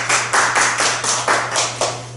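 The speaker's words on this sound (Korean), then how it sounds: "박수 한번 보내주시죠." A handful of close, rhythmic hand claps, about eight evenly spaced beats in two seconds, heard alone over a steady low electrical hum during a talk session.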